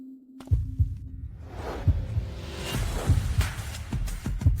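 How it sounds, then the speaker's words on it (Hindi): A heartbeat sound effect thumps in a slow, steady pulse of low, soft beats, heard alone with a faint hum underneath. "मेरे दिल की धड़कन।"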